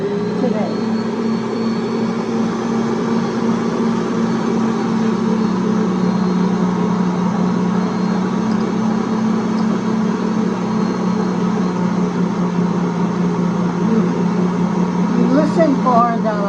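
A stand mixer motor kneading bread dough in a bowl on a humid day runs as a loud, steady drone for the whole stretch, with faint mechanical rattling near the end.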